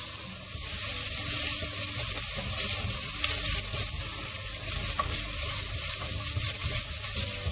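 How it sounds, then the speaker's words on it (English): Onion sautés over medium flame in a pan, turning translucent, with a continuous close sizzle and crackle broken by stirring scrapes throughout. "Just let it saute for another minute."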